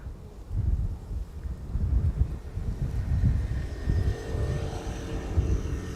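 KLM Embraer 170 arriving in a crosswind at Amsterdam Schiphol, a steady low rumble of engines mixed with buffeting wind noise on the microphone, fairly distant and continuous throughout.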